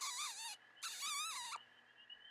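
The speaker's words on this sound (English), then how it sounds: "I didn't realize how loud the spring peepers would be to him" Spring peepers call from the outdoors near where coyotes chase deer: shrill, high, warbling peeps rise in two long bursts, fairly loud, over a faint steady background.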